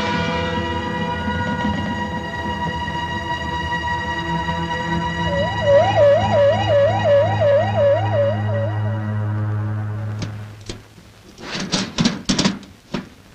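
An ambulance siren wails loud and close with a rising and falling warble, then fades out and gives way to a few sharp knocks and clatters, with no voices.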